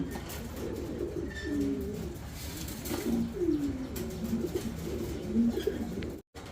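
Pigeons at a pigeon farm coo softly and repeatedly over a steady background hum, several low rolling calls overlapping at moderate distance, with no talking.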